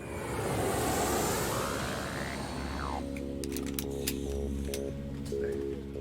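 A passenger plane's engines roar steadily in the cabin with a broad, continuous whooshing drone, then settle into a lower hum with faint clicks and tonal layers over the constant engine noise.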